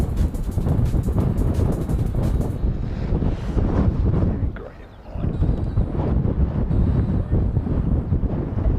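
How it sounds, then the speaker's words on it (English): Strong gusty wind buffets an outdoor microphone beside an airport runway, a loud, continuous low roar that surges and briefly dips midway before rising again, with no talking. "we might have moved, but it's still pretty windy."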